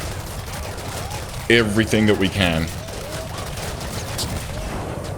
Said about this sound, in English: We need all the gunfire we can on this.